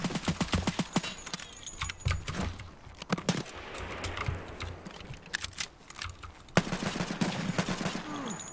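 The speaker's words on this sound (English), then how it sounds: "Someone's shooting at me." Bursts of gunfire in the shooter game Escape from Tarkov, sharp repeated shots and rapid volleys in clusters, some close and loud, others more distant, with sniper fire among them and no talking.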